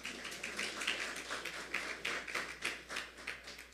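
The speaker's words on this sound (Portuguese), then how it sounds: "Deve aplaudir, você tem que aplaudir." A church congregation claps for a long-married couple, giving a soft, fairly distant patter of many hands in an uneven rhythm throughout, with no speech over it.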